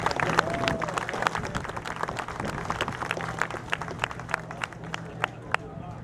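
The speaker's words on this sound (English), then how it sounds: "So let's give them all a round of applause." An audience at a Swiss cheese-wheel making demonstration gives the cheese makers a round of applause, scattered, uneven claps with distinct individual hits over a low hum and background chatter.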